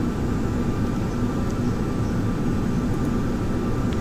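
An A-10A jet in a flight simulator game flies level, its engines producing a steady, unbroken roar and hiss that holds at one loudness throughout, with no voices.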